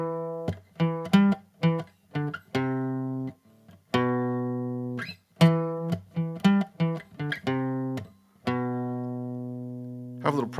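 A guitar plays a riff, choppy short plucked notes and a few ringing ones, repeating in a steady pattern with no voices.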